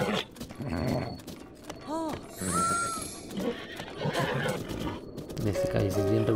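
A horse whinnies with a rising, wavering call in the video game Zelda: Breath of the Wild, set among busy game sounds, music and hoofbeats, fairly loud and close.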